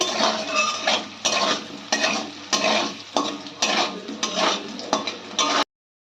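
Potatoes frying in oil with turmeric and salt are stirred in a pan, the spatula scraping in repeated bursts over a steady sizzle, close and fairly loud, with no talking.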